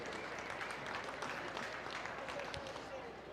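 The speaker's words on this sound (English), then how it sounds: "Let's go ahead and give those guys a nice round of applause for joining us here today." Steady audience applause fills the arena at a state fair market beef livestock show, a dense continuous clapping wash lasting several seconds at moderate distance.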